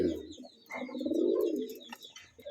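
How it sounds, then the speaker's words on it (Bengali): Pigeons kept for wholesale sale coo in a loft or market cage, several low rolling coos overlapping close by, with faint chirps and clicks above them and no talk. "একদম সুস্থ সবল কবুতর আছে"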